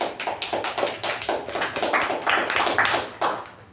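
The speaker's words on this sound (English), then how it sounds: "When I say thunderous round of applause, it has to be thunderous" A small group at a meeting claps in a quick round, the hand claps close and distinct, coming in uneven bursts with no talk over them.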